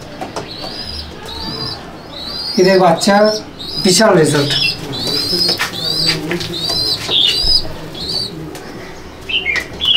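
Imported pigeons in a breeding loft chirp and coo in repeated short calls, with occasional wing flaps, while someone talks over them nearby.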